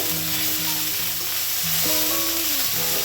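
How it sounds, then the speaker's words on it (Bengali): Vegetables sizzle steadily in hot oil in a pan, with scraping stirs across the surface while frying, leftover fish-frying oil, tomatoes nearby; continuous loud crackle with no talking. "একটু নাড়িয়ে নিচ্ছি"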